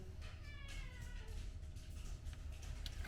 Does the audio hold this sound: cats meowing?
yes